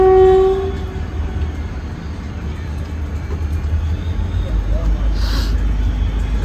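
A train passes a level crossing on an Indian railway in the early morning, a horn sounding at the start and then a steady rumble of wagons rolling by up close.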